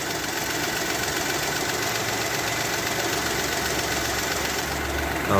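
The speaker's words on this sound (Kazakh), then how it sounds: "Мынакей машинени жүргүздүм." A car engine fitted with a homemade hydrogen fuel-saving device idles steadily and close by, a continuous even drone with no talk over it.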